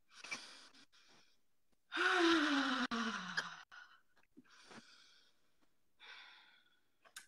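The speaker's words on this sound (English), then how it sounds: "Let's all take a nice deep breath together." A group of women in a morning ritual session draws one long, loud deep breath together and lets it out with a sigh, followed by softer scattered exhales.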